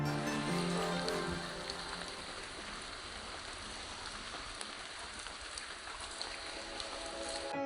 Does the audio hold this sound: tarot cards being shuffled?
no